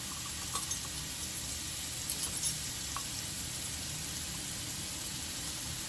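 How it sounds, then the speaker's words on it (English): Onions and garlic fry in a pan, a steady close sizzle broken by a few soft stirring scrapes, with no talking. "I'm going to fry this here on up a little bit"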